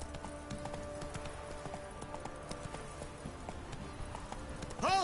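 Roach the horse gallops in the video game Witcher 3, with rapid steady hoofbeats under a background music score and a brief swooshing sound at the end.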